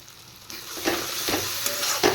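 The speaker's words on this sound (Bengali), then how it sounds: "এবার মশলাটা আর একটু কষিয়ে নেব" A spice paste sautéed in a pan with a little salt and sugar, giving a soft sizzle under repeated stirring scrapes that come in short bursts, close by and without speech.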